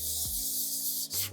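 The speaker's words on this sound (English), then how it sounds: "I'm just going to take a 300 grit sanding sponge, and I'm just going to lightly sand" Brief raspy rubbing strokes of a 300-grit sanding sponge on a table, two short scratchy passes with a pause between, close by and alone.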